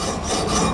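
A knife blade being sharpened on a Hapstone RS Premium CBN sharpener gives a close, steady abrasive rasp that lasts under a second, with no voices.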